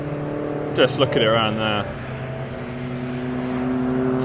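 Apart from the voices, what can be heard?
RacePanda Fiat Panda 100HP race car driving on track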